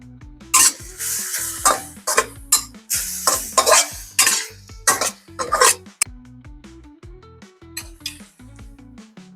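Sesame oil goes into a pan of chili bamboo chicken, which sizzles loudly while a utensil scrapes and clanks through it in repeated bursts of stirring, then the sizzle quietens.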